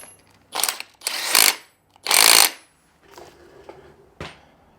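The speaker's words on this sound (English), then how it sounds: "we're going to tighten it back down with our bolt. It doesn't really matter the torque, we're just hit it with our impact" Impact wrench bursts tightening a bolt on a Ferrari F355 cam, several short loud rattling hammering bursts with pauses between, close up, followed by quieter clanks of tools.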